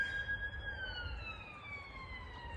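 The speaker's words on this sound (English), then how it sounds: "Sirens. I don't think they're after me." Faint, distant emergency sirens wail across open countryside near a river, thin sustained tones slowly drifting downward in pitch over a low rumble of background noise.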